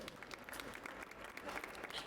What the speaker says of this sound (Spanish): Un aplauso para Pablo Boneu, por favor